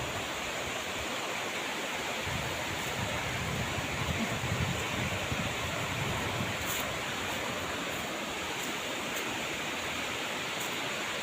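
Steady, broadband rushing of St. Catherine Falls in South Cotabato, Philippines, continuous and fairly loud throughout, like standing near a waterfall, with faint high chirps now and then.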